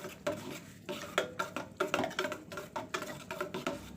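Neem and moringa soap being stirred in a pot during hot-process cooking, heard as a steady run of scraping, knocking strokes of the utensil against the pot, close and fairly loud, with no talking.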